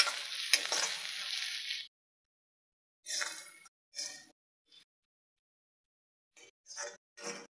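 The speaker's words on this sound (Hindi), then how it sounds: "इसे अच्छे से मिक्स करके हमें 1 से 2 मिनट भूनना है ताकि लहसुन और अदरक का कच्चापन चला जाए।" Garlic and ginger paste sizzles as it is fried and stirred in a pan for a curry, with a steady hiss at first, then short bursts of frying noise separated by silent gaps.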